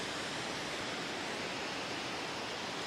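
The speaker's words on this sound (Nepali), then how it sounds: "सो मैले हजुरहरूलाई भनेको झरना यही हो" A small roadside waterfall, Gaikure Jharana, gives off a steady, even roar of falling water with no break, heard close and alone.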